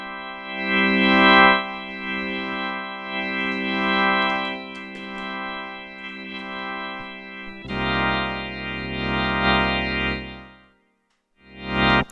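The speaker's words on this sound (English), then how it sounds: "I need to demonstrate the Hammond organ with the expression pedal as well, because that's also an important component of the Hammond organ sound." Yamaha CK61 stage keyboard playing a Hammond organ tone with overdrive and rotary speaker simulation, sustained chords swelling and fading under expression pedal control, ending with a brief drop to silence before a new chord.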